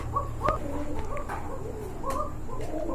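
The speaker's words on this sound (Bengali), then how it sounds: "এটা হল্যান্ড জ্যাকোবিন, হল্যান্ডের না?" A pair of red Holland Jacobin pigeons gives a few soft, throaty coos close by, over a steady low background hum.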